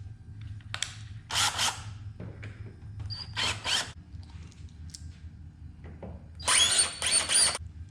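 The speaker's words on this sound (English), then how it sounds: "So we remove these 4 screws here." Four windshield screws being removed from a Harley Davidson Road Glide, several short bursts of a power driver whirring with quiet pauses between, close and fairly loud.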